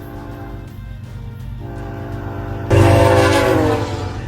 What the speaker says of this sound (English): When a train weighing thousands of pounds travels at 70 miles per hour, the sound and vibration always make for an unforgettable experience.